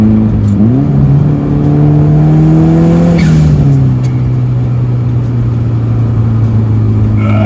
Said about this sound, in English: let's leave you with a little turbo noise